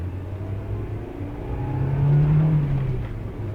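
A 1990s Honda Civic EF with about 104,000 on the clock, pulling in second gear on a test drive, its engine droning low from inside the cabin and swelling into a rising rev midway before easing off.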